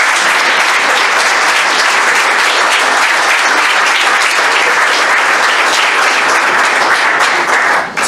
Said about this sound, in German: Bitte begrüßt mit einem kräftigen Applaus unsere Nummer 23